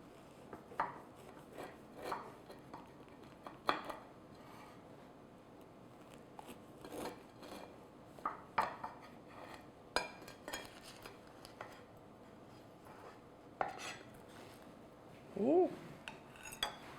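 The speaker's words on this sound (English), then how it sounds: "And then let's cut a slice." A knife slices through a two-layer yogurt crumb cake on a serving platter, producing soft, scattered scraping and crumbly cutting sounds with faint clinks, quiet and close, without speech.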